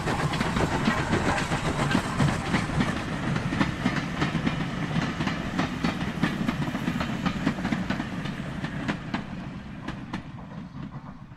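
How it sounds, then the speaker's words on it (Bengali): A passenger train passes on a railway line at night, a loud, continuous rumble with repeated clickety-clack of wheels over rail joints, gradually easing off toward the end. "রাতের অন্ধকারে 7 নম্বর লাইন দিয়ে 11:47 প্যাসেঞ্জার ট্রেনটা বেরিয়ে গেল।"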